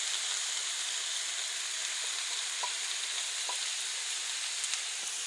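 Sweet peppers, celery and carrots sautéing in a pot, a continuous even sizzle with occasional light stirring taps, close and steady throughout.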